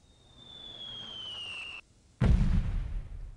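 Artillery barrage from a fire mission in the Delta Force 2 video game: a steady high whistling tone fades into a brief silence, then a loud low explosion erupts and rumbles away, with no talk over it.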